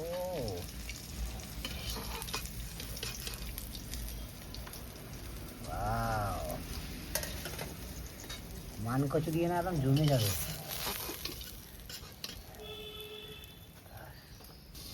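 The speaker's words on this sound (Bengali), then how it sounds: "মাছ ভেজে নিয়েছি খুব সাবধানে" Stinging catfish sizzles in hot oil in a pan with a steady frying hiss, while someone speaks briefly over it.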